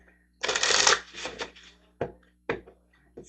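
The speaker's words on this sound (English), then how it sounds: "getting some moon cards out." Moon oracle cards shuffled by hand in a quiet room, with one long riffle burst followed by several short, separate flicks and taps of the deck at close range.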